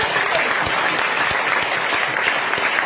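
Audience applause at a DXN event in Jamui, Bihar, a dense steady clapping from a large crowd that holds at a constant level, with no voices on top.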